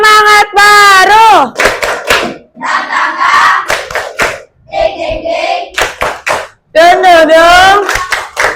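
A primary school class doing a rhythmic spirit clap, with sharp bursts of many hands clapping in patterned groups between loud chanted voices, close and energetic.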